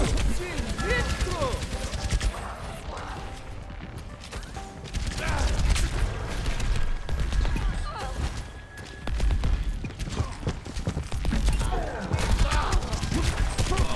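Video game gunfire rattles in dense, sustained bursts throughout, loud and close, with speech over the shooting.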